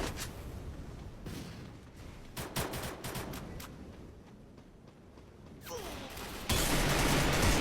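SCAR rifle fire in a shooting video game comes as scattered sharp shots and short bursts, moderately loud, with gaps between volleys and a denser rush of noise at the close.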